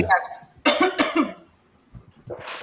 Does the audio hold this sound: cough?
yes